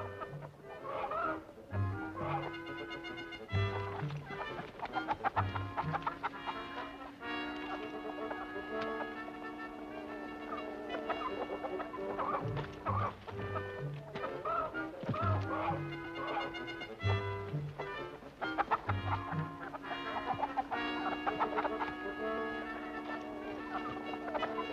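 Chickens cluck in a barn in wartime countryside, steady fowl calls mixed into a dense, continuous bed of other sound throughout.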